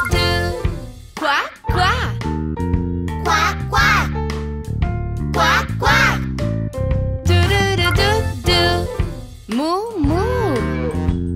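Children's farm-animal song with a duck's quacking voiced in rhythm over a bright musical backing, the quacks sung or imitated by a voice amid the singing.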